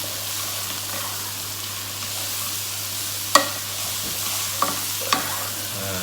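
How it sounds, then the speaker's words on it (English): A dish seasoned with sumac gets stirred in a pan, a continuous close sizzle broken by a few sharp spoon clinks against the metal, with no voices. "And let's give it a good stir."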